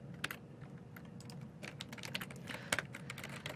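Someone types code on a computer keyboard, a fast irregular patter of close key clicks with occasional louder strokes, running on its own without speech.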